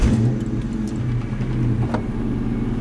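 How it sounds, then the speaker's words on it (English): A Ford New Edge Mustang with a loud exhaust idles after a cold start, a heavy, steady rumble close by with a few faint clicks and knocks over it. "This is a relatively cold startup, and we're just gonna go for a cruise."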